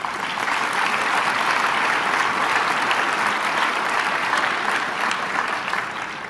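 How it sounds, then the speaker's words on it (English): Sustained applause from a conference audience celebrating a colleague, steady and dense throughout with no gaps and no talking over it. "give her a special applause"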